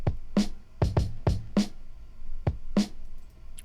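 Drum layer from a beat on an MPC Live 2: punchy kick and snare-like hits in an uneven groove with short gaps, loud and close, no voices over it.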